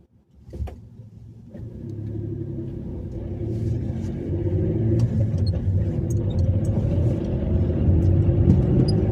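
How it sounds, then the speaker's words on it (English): A car's engine and road rumble come from inside while driving, a low steady drone that swells gradually after a brief thump at the start, with no talking. "I'm driving this car"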